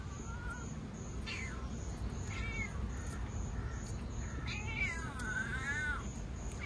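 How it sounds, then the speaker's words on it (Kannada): A cat meows several times, thin rising and falling cries close by, with a final drawn-out wavering yowl over a steady low background hum. "ಬೆಕ್ಕಿನ ಅಟ್ಟುಳಿ ತಡದಲ್ಲಿ"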